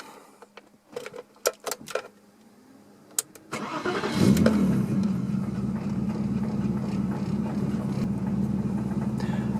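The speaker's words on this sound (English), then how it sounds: "A little bit of clanking from the gearbox, but no noise from the power steering pump, even when I pressed the brake." BMW E30 engine starts after a few clicks and knocks, then settles into a steady mid-pitched run as the car pulls onto the road, with slight gearbox clanking faintly under the drone.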